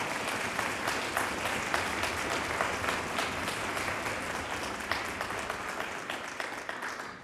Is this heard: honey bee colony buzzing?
no